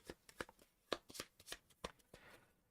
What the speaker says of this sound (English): And then we shuffle this up, shuffle it up at the start of Acts 1, 2, and 3.